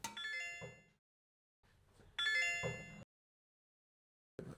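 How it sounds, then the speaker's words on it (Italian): A phone switched back on after several days chimes with incoming missed-call notifications, two bright multi-tone dings a second apart with a brief clipped start of a third, clear and close with quiet gaps between. "gli stanno arrivando tutti i messaggi di chiamate perse"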